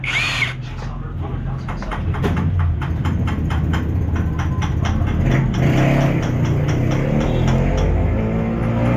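An STX125 motorcycle engine running low on oil clatters with a loud, rapid mechanical ticking over a steady rumble, close by and continuous.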